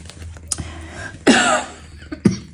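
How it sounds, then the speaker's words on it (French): A single sharp, harsh cough bursts out, preceded and followed by a couple of softer throat sounds, close to the microphone with no talking. "j'ai toujours cette vilaine toux"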